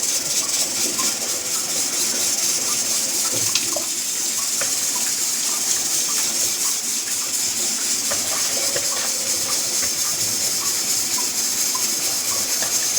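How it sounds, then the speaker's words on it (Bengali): Soaked rice goes into a pot of boiling water for mutton biryani, and a steady, close hiss of bubbling water continues throughout with faint scattered patters. "এবার আমি ভিজিয়ে রাখা চালটা দিয়ে দিচ্ছি।"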